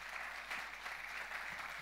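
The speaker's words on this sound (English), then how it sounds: "can we have a round of applause for the speakers?" Applause from the audience for the speakers at the close of a conference panel on strategic financing for economic diplomacy, a steady, dense clapping that fills the whole stretch without any speech.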